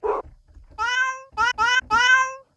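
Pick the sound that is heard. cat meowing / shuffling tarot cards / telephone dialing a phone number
cat meowing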